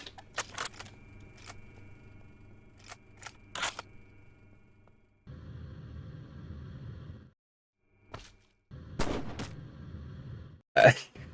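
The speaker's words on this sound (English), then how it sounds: "Hearing the gunshot hit behind me is crazy." Gunshots in a Minecraft game: sharp, sparse cracks scattered among clicks and short stretches of low background noise, some in quick pairs, with quiet gaps between them.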